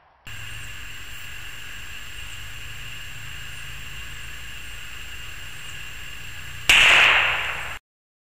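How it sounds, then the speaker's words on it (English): A single sharp shot from a Marlin Model 81 bolt-action rifle in .22 Long Rifle, fired at a playing card for a trick shot, cracks after a long steady hiss and then decays briefly. "using my Marlin Model 81 chambered in 22 long rifle"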